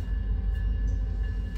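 Southern Pacific locomotive, SP unit 8158, running on the Roseville to Colfax line: a steady low diesel rumble with rail noise, close and constant through the whole stretch, no voices.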